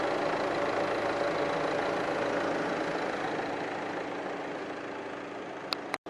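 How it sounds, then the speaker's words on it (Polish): A 2013 Renault Master van with a 2.3 dCi diesel engine runs steadily alongside its whirring cooling fans, a dense, even hum that continues for several seconds before a sharp click near the end. "słychać jak pracują wentylatory"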